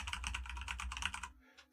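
Fast typing on a computer keyboard: a rapid, even burst of close, crisp key clicks for about a second and a half, then a brief pause and a couple of softer taps.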